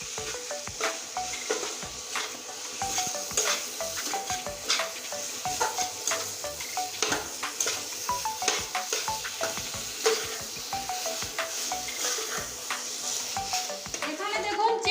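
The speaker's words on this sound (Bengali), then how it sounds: "চিকেনটা দিয়ে দিচ্ছি এবার সুন্দর মতো কষতে থাকবো" Chicken stir-fried with homemade spices in a pan, a close, steady sizzle broken by rapid rhythmic scraping and clinking of a spatula against the metal.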